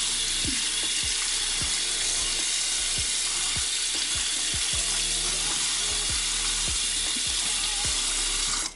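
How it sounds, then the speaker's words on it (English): Tap water runs steadily into a kitchen sink as a lobster part is rinsed, a loud continuous hiss broken by repeated knocks and clunks of the piece against the basin. "I'm going to rinse this off."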